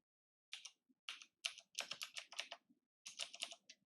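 Quick bursts of keystrokes on a computer keyboard clatter close and crisp, several short rapid runs of typing separated by brief pauses, alone in a quiet room.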